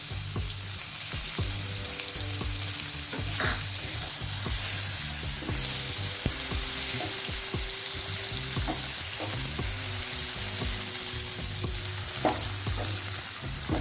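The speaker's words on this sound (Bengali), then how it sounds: "পেঁয়াজটা হালকা লাল লাল করে ভেজে নিতে হবে" Chopped onion frying in oil with bay leaf and cumin for a lote fish curry, giving a steady close sizzle with intermittent scrapes of stirring throughout, no voices.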